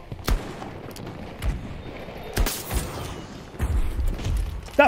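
Sharp sniper rifle shots in the Battlefield 2042 video game, two or three loud cracks spaced seconds apart with booming tails over a low rumble of in-game ambience.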